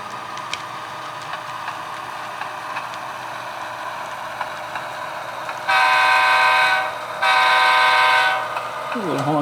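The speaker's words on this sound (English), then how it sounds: "A little honk from the engineer there." A locomotive horn sounds twice in a rail classification yard during coupling, two loud sustained blasts close by, over a steady background rumble.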